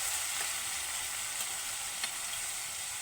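Onion paste dropped into hot oil in a pan, giving a steady, even hiss of frying that stays close and moderately loud for the whole stretch, with a couple of faint clicks and no talking.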